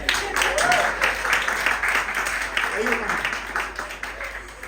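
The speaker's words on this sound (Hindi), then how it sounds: "उनके लिए ताली बजाएंगे" An audience claps to honour fathers in a dense, steady round of applause that lasts several seconds, with a voice faintly heard over it.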